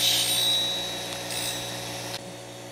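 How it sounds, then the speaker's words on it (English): A bench grinding wheel sharpens a woodturning gouge rolled on a platform to a 40-degree bevel, giving a steady whirring drone with a faint tonal hum that runs continuously before dropping off near the end. "contact the wheel, and just roll the tool to grind my 40 degree angle on the entire edge"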